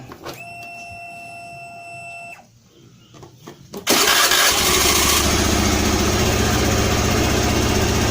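Honda Beat FI scooter with a sputtering, stalling fault, heard first as a steady electronic hum with beeping tones and then a brief lull. The engine then starts abruptly and settles into a loud, continuous, close rumbling idle.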